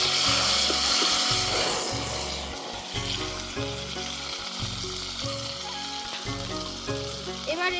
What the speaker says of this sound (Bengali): তো জিরে, শুকনো লঙ্কা, তেজপাতাটা ফোড়ন দিয়ে আগে একটু নেড়ে নিতে হবে।